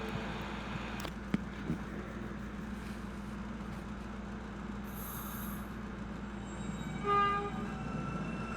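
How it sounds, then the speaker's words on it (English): A Brooklyn-bound W Express subway train at Whitehall Street-South Ferry station in New York gives a low, steady rumble with faint clanks, a rising whoosh and a few brief squeals near the end. "This is a Brooklyn-bound W Express train."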